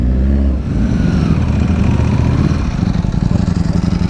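Motorcycle engine idling close by, a loud low rumbling throb that stays steady with a slightly uneven pulse throughout.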